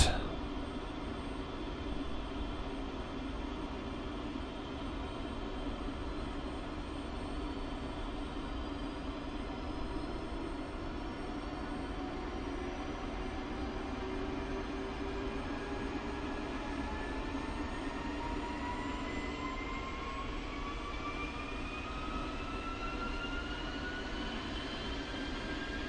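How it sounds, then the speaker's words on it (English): An F-16 jet engine starting up, a steady roaring hum with thin whining tones that climb slowly in pitch as it spools, continuous and unbroken, with no voices. "Okay, sounds like good engine start."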